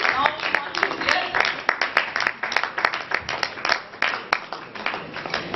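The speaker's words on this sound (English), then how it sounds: "a round of applause" An audience claps at a Founders Day ceremony, a steady run of sharp individual handclaps with a few louder ones standing out, fairly close and continuous across the stretch, with faint voices underneath.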